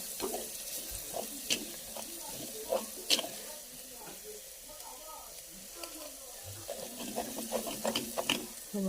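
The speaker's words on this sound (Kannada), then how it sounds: "ಇವಾಗ ಜೀರಿಗೆ, ಕರಿಬೇವು, ಅರಿಶಿನ ಪುಡಿ ಮತ್ತು ಸಾಸಿವೆ ಒಟ್ಟು ಒಮ್ಮೆ ಹಾಕೊಂಡ್ಬಿಡೋಣ ರೀ" Mustard seeds, cumin, curry leaves and turmeric tempering in a hot pan, giving a crackling sizzle with scattered sharp pops and spits over a low background hiss, close and fairly quiet, with no talking.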